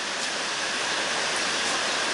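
Rain falls harder in a dense, even hiss. The roar is constant and moderately loud, with no voices.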